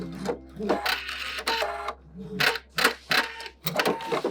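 A sewing machine stitches the inseam of high-waisted shorts at a half-inch seam, finishing with a backstitch. It runs in several loud bursts of rapid mechanical stitching with short pauses between them.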